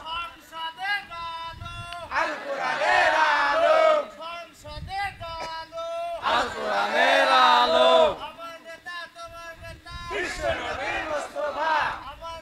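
A large crowd at an Eid prayer shouts the takbir in unison, three long swelling chants of many voices separated by short pauses, loud and close.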